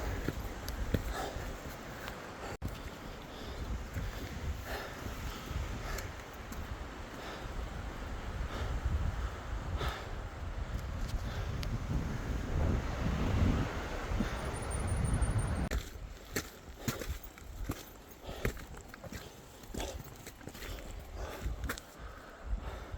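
Gusty wind buffets the microphone on the rocky summit of Mount Washington, a continuous roaring rumble that swells midway and eases into lighter, choppier gusts, with no talking.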